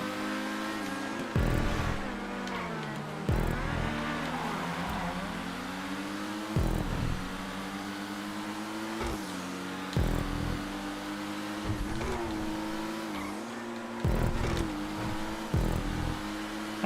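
Pariah sports car in GTA 5 racing flat out at top speed, with engine whine sweeping up and down through repeated gear shifts, loud and steady across the run with no talk.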